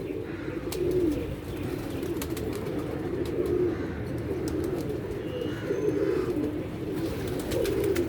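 Pigeons coo steadily in a low, continuous chorus, joined by occasional sharp chirps and brief flutters, with no voices present.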